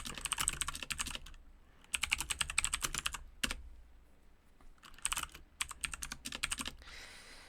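Clicky mechanical keyboard switches clatter in quick bursts of close, crisp typing, separated by short pauses, with no voices.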